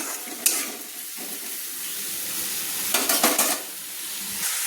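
Boiled banana flower sautés with spices in a hot pan. A steady close sizzle runs throughout, with a few sharp stirring scrapes and clatters against the pan.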